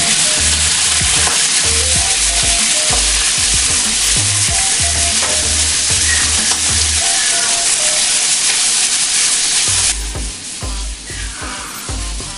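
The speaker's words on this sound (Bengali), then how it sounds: "কপিগুলো ভেজে নেব, খুব হালকা করে ফ্রাই করব" Cauliflower florets lightly frying in two to three spoons of white oil, a loud steady sizzle with stirring and scraping knocks throughout, near and continuous for over twelve seconds with no voice.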